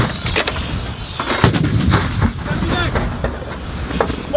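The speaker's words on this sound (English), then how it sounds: "Seven rounds fired!" Army fires unit artillery rounds being fired during a field exercise, heard as several sharp broadband blasts with rumbling low-end decay amid wind and outdoor noise, with faint voices in the background.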